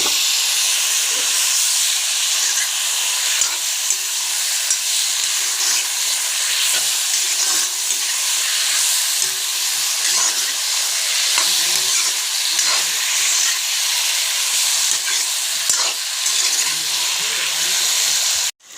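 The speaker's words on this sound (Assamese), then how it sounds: "মাংসখিনি ভাজিলোঁ।" A loud, continuous hiss and sizzle of goat meat frying in a hot pan, with soft stirring scrapes and clicks throughout.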